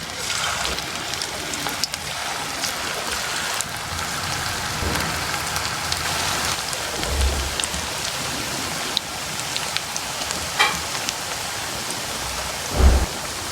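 Food fries in hot oil in a frying pan, a dense, continuous sizzle with occasional pops and low thumps, steady and close throughout.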